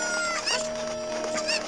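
Chicken clucking in The Legend of Zelda: Ocarina of Time 3D, a few short bright cackling bursts over steady game music, fairly close and moderately loud.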